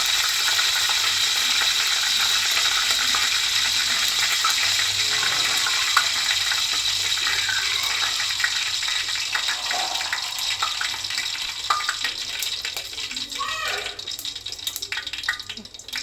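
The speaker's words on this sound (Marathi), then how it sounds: "आपलं पातेलं थोडंसं पाणी राहिलं त्याच्यामुळे एवढा आवाज येतो तेलाचा." Steady, dense sizzling and crackling of hot oil hissing with leftover water in a pot, continuous throughout with faint background voices.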